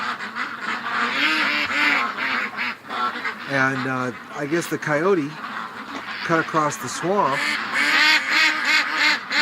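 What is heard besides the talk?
frightened ducks quacking in a swamp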